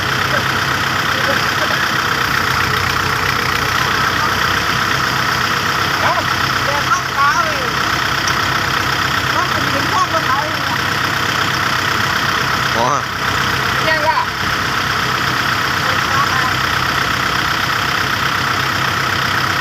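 A tractor engine idles steadily throughout, a constant low, throbbing rumble with no change in pace.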